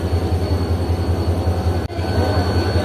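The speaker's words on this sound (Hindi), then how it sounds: "तो ये आ चुकी है 38 डाउन बाबा फरीद एक्सप्रेस" The Baba Fareed Express pulls into Rahim Yar Khan station, a loud, steady low rumble and drone of the train close by on the platform, briefly broken by a single sharp knock.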